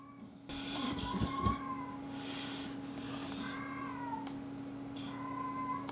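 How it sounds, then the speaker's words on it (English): A cat meows outside a window, giving several drawn-out, wavering cries spread over a few seconds, faint against a steady background hum. "There's a cat meowing outside my window."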